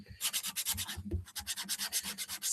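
Steady back-and-forth scraping of sandpaper by hand, a quick rhythmic series of rasping strokes, close up, with a brief pause partway through.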